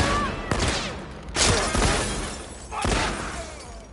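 Sidearm gunfire from The Last of Us Part II: three sharp pistol shots about a second apart, loud and close, each with a crashing burst and brief ringing tail over a busy game background.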